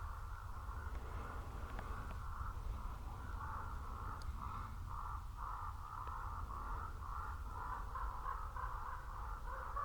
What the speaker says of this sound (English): Crows are going nuts.